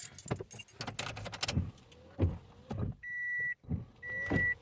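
A bunch of keys jingles briefly up close, followed by a soft motor hum and repeated electronic car chimes from a second-generation Toyota Vios during an aftermarket radio install.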